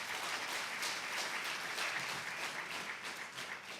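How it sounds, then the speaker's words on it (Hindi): An audience at a religious gathering in London gives a round of applause: soft, steady, continuous clapping from many hands, heard faintly from a distance with no break. "एक बार ताली जरूर बजाओ।"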